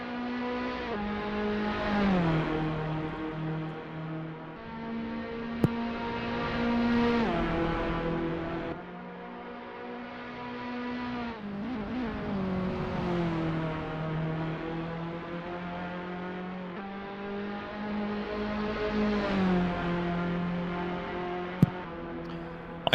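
Touring cars racing in a sim racing game, several engines droning and revving together through gear changes, a continuous loud pack noise with rising and falling pitch and occasional sharp clicks.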